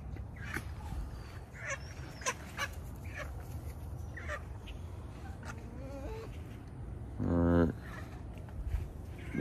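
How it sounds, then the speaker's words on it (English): Chickens are let out of their coop in the morning, giving scattered faint clucks and one short burst of loud squawking amid rustling, while a person talks quietly nearby. "So usually let the chickens out first."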